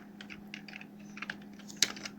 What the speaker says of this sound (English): Now I will open a new tab and type Google